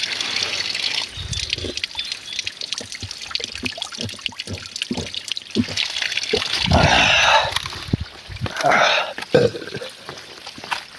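Cold water flowing down from a hillside source runs and splashes steadily close by, rising in gushing bursts, while people talk over it.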